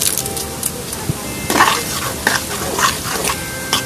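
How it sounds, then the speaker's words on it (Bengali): Raw mango chutney with spices being stirred in a pan, a soft scraping with a few sharper clinks of the spoon against the pan over a low, steady background. "এবার আমি ততক্ষণ পর্যন্ত নাড়তে থাকবো যতক্ষণ পর্যন্ত আমার মশলাটা মিক্স না হবে"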